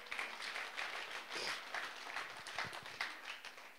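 A church congregation claps together in a faint, steady burst of applause that carries on throughout, heard from a distance with no clear speech over it.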